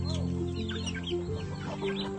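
Backyard chickens cluck steadily at close range during morning feeding in a rural province, with layered overlapping clucks and soft calls throughout.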